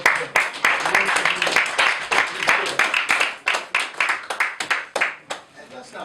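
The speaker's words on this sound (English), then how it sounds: "Let's give Dr. Mack an acknowledgement and a round of applause." Rounds of hand clapping from an audience at a community debate, dense irregular claps filling the whole stretch at moderate loudness, with voices mixed in underneath.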